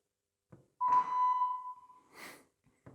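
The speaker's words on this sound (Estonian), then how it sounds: "Jõudsime 1000 hertsini ning see helisagedus on huvitav just sellepärast, et selle heliga piiksutakse kinni erinevad roppused." A pure 1000 Hz test tone, the kind used to bleep out profanity, sounds as a single steady beep lasting over a second. Short soft noises come just before and after it.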